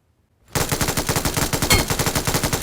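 MG3 light machine gun with Brass Bovine skin firing in PUBG Mobile: a sudden, loud, sustained burst of rapid, evenly spaced shots that starts after a brief silence and runs continuously without a break.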